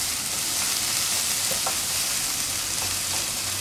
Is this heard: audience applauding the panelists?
no